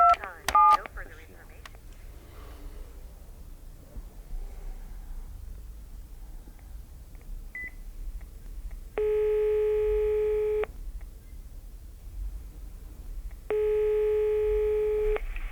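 Telephone keypad tones beep in a quick burst, then after a quiet stretch of low background hiss, two long, steady dial-tone blasts sound with a pause between them.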